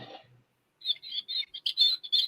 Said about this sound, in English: probably because my bird just went off.